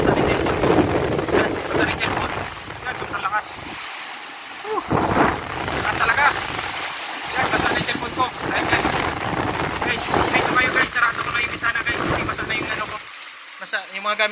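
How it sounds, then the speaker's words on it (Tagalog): Strong wind from Super Typhoon Odette in Saint Bernard, Southern Leyte, roars and buffets a microphone continuously, gusting up and down and shifting direction, with a person speaking over the howling noise. "Ngayon, ito yung super typhoon. Odette. Yan, pabaliktad-baliktad yung hangin."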